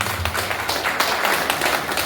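An award ceremony audience applauds at a prize-giving in a steady, dense wash of many hands clapping close and even.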